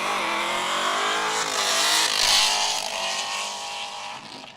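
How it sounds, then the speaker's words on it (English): A 1965 Corvette at an open road racing event revs its engine hard, a loud continuous roar that rises and falls through the clip. "And you might be able to hear in the background the 1965 Corvette of Lyle and Nick Eckberg."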